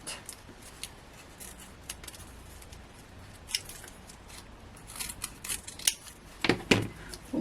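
Scissors cutting strips of card for cardmaking, a series of close, crisp snips and slicing rasps that grow busier toward the end, with no talking.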